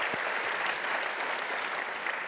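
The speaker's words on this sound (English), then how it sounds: "And we should clap for that" An audience claps in steady, dense applause that fills the whole short stretch, with no voices standing out above it.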